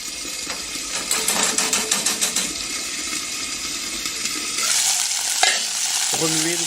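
Crustaceans stirred in a cooking pot, with a busy frying sizzle beneath a run of quick rhythmic scraping strokes, then steadier bubbling and a sharp knock near the end; no talking.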